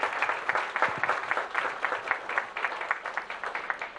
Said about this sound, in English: Let's give him one round of applause again,